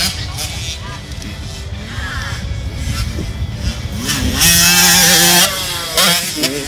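A 12-year-old rides a GasGas 85 dirt bike, its two-stroke engine buzzing and revving up to a loud, high wail over an outdoor crowd murmur, with people talking nearby.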